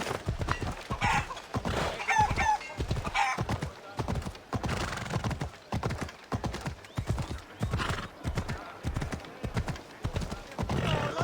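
Hooves clip-clop in a steady, rhythmic trot in the video game Assassin's Creed Odyssey, close and clear, with occasional whinnies and faint background chatter mixed in.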